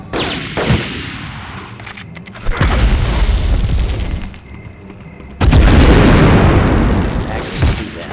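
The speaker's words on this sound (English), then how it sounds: "throw a grenade in here" Grenade explosions and gunfire in the PS1 video game Medal of Honor: loud booming blasts in several bursts with rumbling tails and crackling shots, close and intense, with no talking over them.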